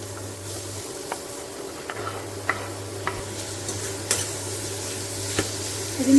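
Chopped onions and four dried red chillies fry in hot oil, a soft steady sizzle with occasional scrapes and taps of a spoon stirring in the pan, close and calm, with no voices.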